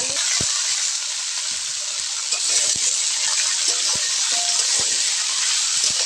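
Cut potatoes fry in mustard oil in a wok, a steady close-up sizzle and hiss broken by scattered clicks and taps of stirring.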